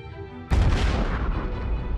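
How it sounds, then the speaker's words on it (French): A supernova explosion in a Milky Way space documentary erupts as one sudden, very loud, deep boom that then rumbles on in a long, rolling roar with no voice over it. "Elles meurent dans des explosions parmi les plus violentes qui aient secoué l'univers."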